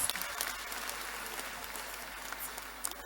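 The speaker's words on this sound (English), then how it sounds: "Then clap for yourself if you are doing that." Audience at a youth empowerment summit clapping steadily, a dense continuous wash of applause heard alone from a moderate distance.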